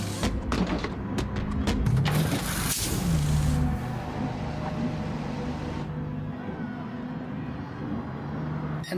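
A Gr.3 race car makes a pit stop at Catalunya in Gran Turismo Sport, the engine droning and shifting pitch as it slows and pulls away, with thumps and clatter early on beneath a steady mechanical hum.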